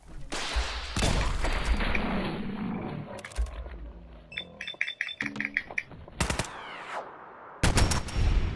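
Gunfire from a Fallout 4 fight against ghouls: loud bursts of shots mixed with roaring creature growls and clattering game effects, dense and chaotic throughout with no speech.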